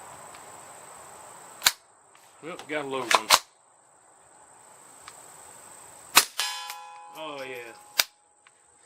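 Remington subsonic .22LR rifle shots striking an orange steel target at 50 yards outdoors: four sharp, moderately loud cracks with thin metallic rings, spaced out between stretches of quiet and short bursts of talk.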